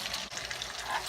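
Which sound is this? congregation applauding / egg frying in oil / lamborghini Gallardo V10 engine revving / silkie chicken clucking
egg frying in oil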